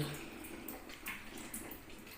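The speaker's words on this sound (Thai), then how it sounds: "น้ำไหลเบานะ" Water running weakly from a large shower head fed by a 4,500-watt electric water heater, a faint steady hiss and patter with small splashes, no voices.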